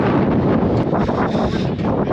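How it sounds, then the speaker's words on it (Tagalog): Strong wind atop the Malahat Skywalk in Victoria buffets the microphone in a loud, continuous roar with gusty surges throughout. "Lakas ang hangin dito."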